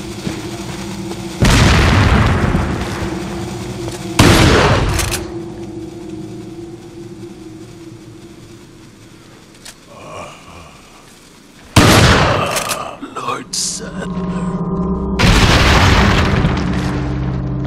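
Shotgun blasts in the video game Resident Evil 4: three loud, booming shots spaced several seconds apart, each with a sharp attack and a short decaying tail, over a low game ambience.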